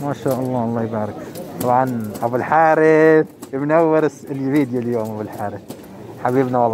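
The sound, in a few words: pigeons cooing at a bird market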